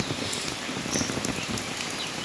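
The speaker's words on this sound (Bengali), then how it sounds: "দেখছেন বৃষ্টির এই যে মাত্রা বেড়ে গেছে" Steady morning rain patters densely on surfaces nearby, an even, hissing downpour with scattered distinct drops and no voices.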